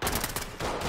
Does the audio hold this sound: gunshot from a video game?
yes